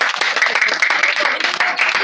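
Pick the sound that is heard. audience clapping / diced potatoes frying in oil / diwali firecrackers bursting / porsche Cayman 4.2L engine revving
audience clapping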